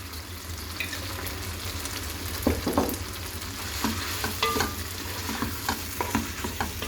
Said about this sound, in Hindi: बस 1-2 मिनट इसको हम लोग फ्राई करेंगे